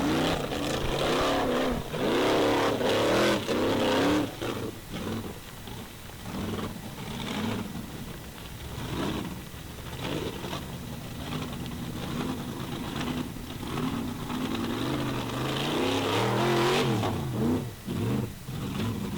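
A Formula Offroad car revs hard while climbing a hill at an Icelandic torfæra event, its engine roaring and surging in repeated bursts, loud and close, easing mid-run before surging again.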